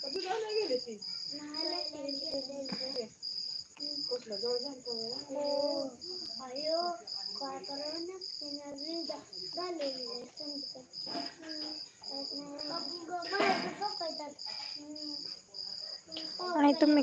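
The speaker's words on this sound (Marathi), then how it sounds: "रातकिडा ओरडतो" Crickets chirping at night near a house, a constant high pulsed trill running beneath people talking close by.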